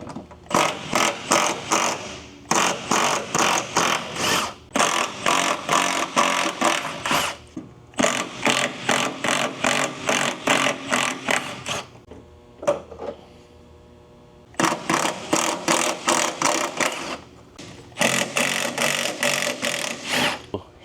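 Nut being removed from a sway bar clamped in a vise, from a 2000 Honda Civic Si: bursts of rapid mechanical rattling like an impact or ratchet tool, repeated in several runs of about two seconds with short pauses, close and loud.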